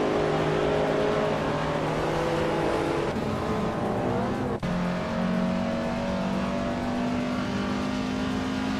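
Race car engines in a racing video game, a loud sustained drone with shifting gear tones, revving and accelerating as cars pass, with a brief dip midway before the engines climb again.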